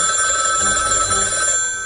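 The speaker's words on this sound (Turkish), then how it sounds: "Bu sefer de telefonum çalıyor ya." A telephone rings steadily and loudly in a bright, continuous electronic tone for the full two seconds, heard on its own with no talking.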